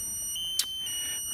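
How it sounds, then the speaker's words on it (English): T5-S3 timer alarm sounding at the end of a cycle, a steady piercing electronic tone with a brief sharp click partway through, close and loud. "And at the end of the cycle, of course, it alarms."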